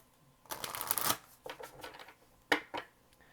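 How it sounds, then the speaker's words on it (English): Shuffling a big, oversized tarot deck by hand: a dense riffling burst, then a few shorter shuffles and card snaps, close and fairly quiet with no talking. "This deck is very big and gives me trouble, so a little bit tough to shuffle."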